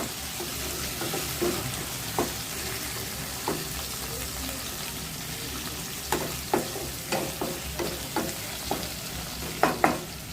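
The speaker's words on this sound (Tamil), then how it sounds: "நல்லா தக்காளிக்கு நல்லா கலந்து வரா மாதிரி நல்லா வதக்கிக்கணும்" Tomatoes sautéing in a pan for a fig curry, a steady low sizzle broken by repeated sharp scrapes and taps of a spoon stirring against the pan, no talk.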